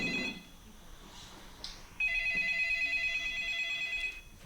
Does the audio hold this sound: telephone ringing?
yes